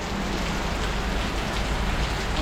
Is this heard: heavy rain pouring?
yes